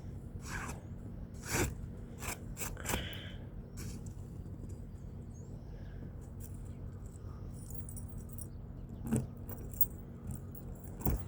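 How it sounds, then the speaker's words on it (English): Keys jangle in a few short metallic bursts over steady low engine rumble, likely a car idling during a Rhode Island blizzard; the jingles are brief and fairly close. "Just don't drop my keys."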